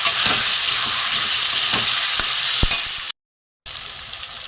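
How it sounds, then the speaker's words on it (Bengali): Potatoes and pointed gourd fry in a pan with tomato, hissing and sizzling steadily while being stirred, close and loud, with a brief dropout near the end. "আলু পটলগুলো দিয়ে দিলাম এর সাথে কষাবো"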